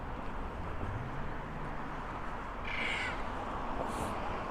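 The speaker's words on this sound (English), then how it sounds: "Black cockatoo up there." A black cockatoo calls from up in a tree on a walk around Innisfail, Queensland. Its harsh, drawn-out cries sound fairly distant over a steady outdoor background.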